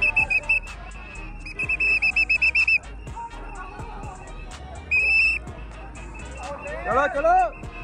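Shrill whistle blasts sound in quick bursts and longer held tones, some warbling, on a Punjabi bus ride. Voices talk and murmur around them throughout.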